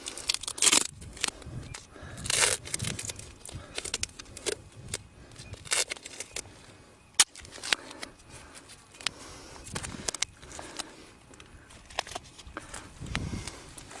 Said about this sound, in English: is use a section of duct tape